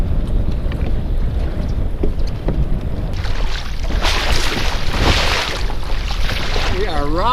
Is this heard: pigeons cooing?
no